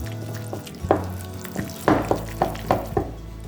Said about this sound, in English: just add some boiling milk, 1 teaspoon at a time, and stir vigorously